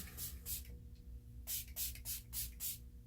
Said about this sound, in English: I'm just gonna spray that.